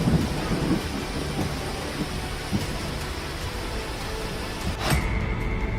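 Heavy monsoon rain pours steadily during floods in India while thunder rumbles and one sharp crack breaks near the end, loud and close with no voices.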